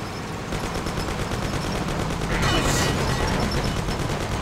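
Sustained rapid gunfire from the video game Mafia, a dense continuous burst of automatic shots that swells louder midway and keeps rattling without pause.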